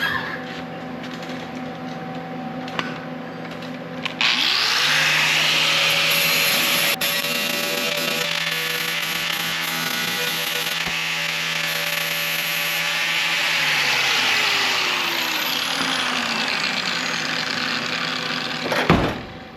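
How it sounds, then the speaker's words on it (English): Angle grinder working metal on a 1974 Chevy square body passenger door skin, a loud continuous whine starting after a few seconds, steady and close, running alone with no talk, then cutting off near the end. "So I'm gonna grind this off down here and see how close we are."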